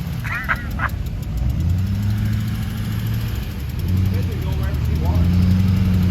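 An army truck engine rumbles steadily with a rough exhaust note at an off-road mud park, while voices talk over it.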